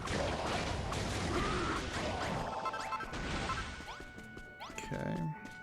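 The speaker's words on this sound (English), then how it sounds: "Bone smashing time." Bones get smashed in Dragon Quest Builders 2, a run of heavy crunching whacks and swishes against a busy game soundscape.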